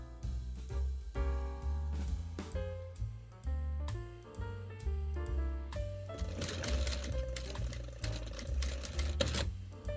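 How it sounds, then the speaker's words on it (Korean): A sewing machine stitching a single-layer 1mm ggye-kki seam in hanbok fabric with a thin size 9 needle, running close in steady, rhythmic stitching bursts that shift pace and pitch over ten seconds, with no voices. "시접이 노루발 사이 공간보다 가늘기 때문에 접힌 시접 위로 바늘이 잘 지나가는지 계속 확인하며 박습니다."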